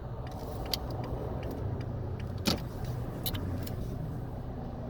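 Cars stream past on a busy highway exit, a steady road rumble with a few louder vehicles whooshing by, one sharp transient near the middle, and no talking.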